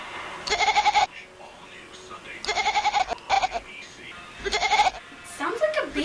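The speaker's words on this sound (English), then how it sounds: "For some weird reason, this kitten sounds like a goat." Kitten giving repeated goat-like bleats in three loud bursts with short pauses between, close by, with no talking.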